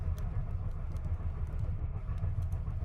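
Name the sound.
train clattering on tracks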